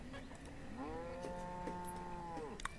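A cow in the Banished town-building game lets out one long, drawn-out moo that rises and holds before fading, close and clear over faint background ambience, with no talking.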